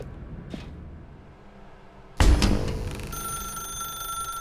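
Telephone ringing in The Stanley Parable video game: a faint tone early on, then a loud bright ring bursts in and settles into a sustained electronic ring with a steady tone.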